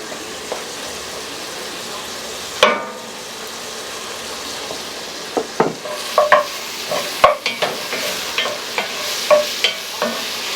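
Butter and flour roux cook in a pot for clam chowder as a spoon stirs and scrapes, starting as a low sizzle, then clusters of quick knocks and scrapes growing more frequent near the end.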